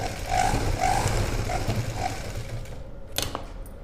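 A sewing machine runs a steady, rapid rattling stitch through a padded blouse lining for about two and a half seconds, then stops, leaving a few faint clicks.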